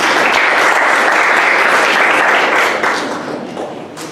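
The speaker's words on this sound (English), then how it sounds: "And with a round of applause, please." A crowd at a mental health awareness event applauds loudly as an award recipient comes on stage for her certificate; the dense, even clapping holds steady, then thins and tapers away near the end.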